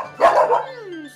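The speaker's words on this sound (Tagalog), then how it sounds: "si Oreo kanina ay nag-tahol ng tahol" A dog gives a single short bark up close, followed by a trailing whine that fades out, all within about a second.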